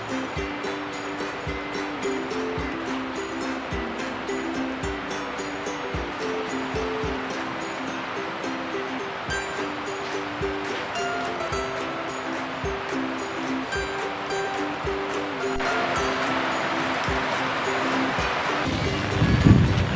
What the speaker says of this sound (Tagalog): nandito po kami sa gilid ng dagat